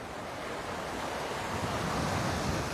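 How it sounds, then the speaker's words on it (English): Ocean waves crash on the beach at Waikiki, Hawaii, a broad, hissing surf that builds gradually louder over the moment, mixed with wind buffeting the microphone. "you're hearing the waves really nicely crashing"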